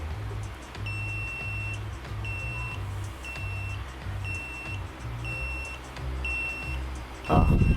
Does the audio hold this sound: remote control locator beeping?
yes